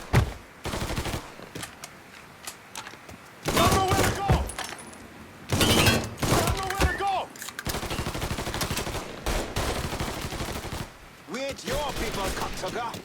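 Gunfire in a Mafia III firefight, loud repeated bursts of shots and rapid fusillades in several clusters across the clip, mixed with shouting voices.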